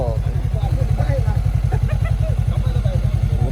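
A Honda CBR500R on its stock exhaust idles close by with a steady, pulsing low thrum, while people talk loudly over it throughout.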